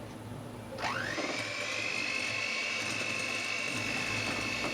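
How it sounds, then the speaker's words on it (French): An electric hand mixer beats a milk and cornstarch mixture for flan pâtissier, starting with a rising whine near the one-second mark and then holding a steady, loud whirr to the end. "on va battre toute notre préparation au batteur électrique"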